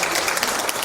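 Audience applause at a talk, a brief dense burst of clapping heard alone.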